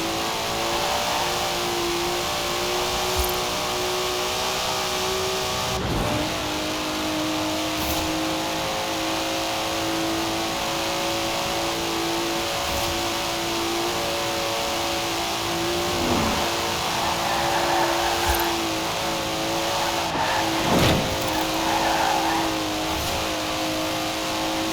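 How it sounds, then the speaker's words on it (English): A Datsun car in Forza Horizon 4 revs loudly and continuously, its engine note holding steady with sharp shifts and surges, and no voices over it. "Never heard a Datsun sound like that"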